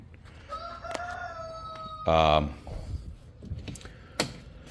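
A rooster crows once, a drawn-out rising call, followed by a loud brief vocal burst and scattered clicks and rustles nearby.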